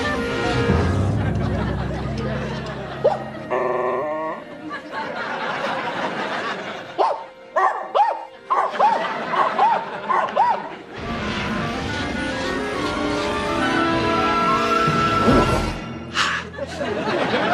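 A cartoon dog in an animated pilot barks and yips in short, sharp bursts, mixed with whimpers, music and sound effects, with people talking and chuckling over parts of it.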